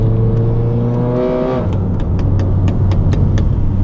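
A tuned VW Passat B8 with a 1.8 TSI engine making 360 whp and 480 Nm revs hard and climbs in pitch, then shifts and lifts, firing a rapid string of sharp exhaust pops and crackles, loud and close from the cabin.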